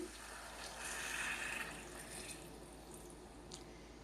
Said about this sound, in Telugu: సరిపడే వాటర్ వేసుకుంటున్నానండి